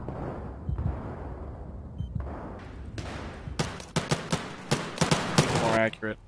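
In the Battlefield video game, a bipod-mounted gun fires rapid bursts. Loud, sharp repeated shots follow rumbling, booming background fire.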